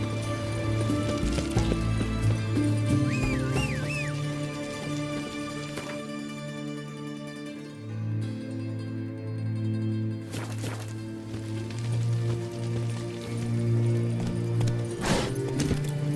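Roach, the horse in The Witcher 3, trots and gallops with rhythmic hoof clops beneath a sustained musical score and game ambience, moderately loud throughout.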